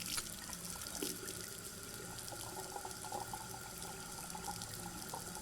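Tap water running steadily in a continuous, moderately loud rushing stream with no pauses and no voices.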